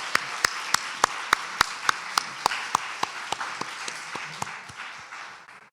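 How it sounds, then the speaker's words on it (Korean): Rhythmic unison clapping from a worship gathering welcoming new university freshmen: a steady beat of sharp, loud claps about three per second over a bed of scattered applause, gradually softening and trailing off. "다시 한번 박수로 환영해 주시면 좋겠어요."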